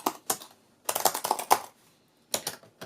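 Typing on the keyboard of a Dell Latitude CP 233XT MMX laptop, a vintage model with deep key travel: quick clusters of close, crisp clacking keystrokes separated by short pauses.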